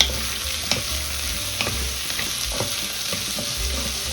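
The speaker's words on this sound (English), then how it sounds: "Now as they're sauteing, I like to add a little bit of the herbs that I had selected" Osso buco meat sautés in a pan with herbs, a continuous loud sizzle up close, marked by a few soft scrapes and knocks of stirring and a low rumble underneath, with no one speaking.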